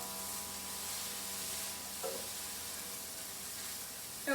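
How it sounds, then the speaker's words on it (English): Chicken sizzling as it goes into a hot stir fry pan with sesame noodles, a steady soft crackling hiss that continues alone with a brief stir partway through. "I'm going to put in the chicken."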